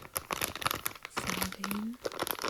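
Candy packaging being crinkled and handled up close, a busy stream of crackling rustles with a brief faint squeak midway.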